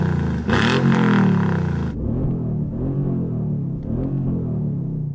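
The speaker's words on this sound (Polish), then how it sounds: "Mark, kolejne twoje 6-litrowe Twin Turbo V8." A big 6-litre twin-turbo V8 engine revs hard once with a loud roar, then settles into a deep, burbling idle with a couple of lighter blips.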